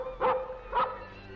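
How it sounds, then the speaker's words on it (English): Prince, a newly arrived dog, lets out two short, clear barks spaced about half a second apart, close and fairly loud in a quiet indoor room with no talking. "But we got our new dog today."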